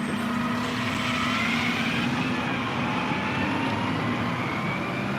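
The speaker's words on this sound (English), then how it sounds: "Garbage truck is making a turn." A garbage truck turns on a city street in Inwood, Manhattan, with a loud, steady engine rumble and road noise that runs unbroken throughout, and no voices.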